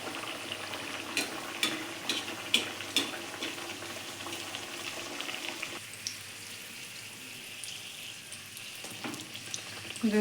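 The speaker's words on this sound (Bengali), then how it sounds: "এগুলো আমি ভেজে নিচ্ছি" Luchi puffed bread frying in hot oil, a soft continuous bubbling hiss with a few light clinks and stirs early on, fairly quiet and steady with no talking.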